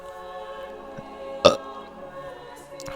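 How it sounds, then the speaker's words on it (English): A single short, sharp burp from a character in the role-playing game Xenoblade Chronicles 2, rising briefly above a soft, steady musical background. "but apparently a burp too"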